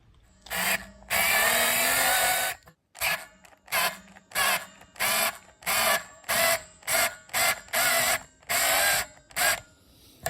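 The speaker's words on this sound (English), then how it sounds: "I'm going to just file that back, scrape that back a little bit there" A file scraping metal back on a guitar tremolo bridge in a home garage, with a long stroke followed by a steady series of short, rhythmic rasping strokes, close and fairly loud with no talking.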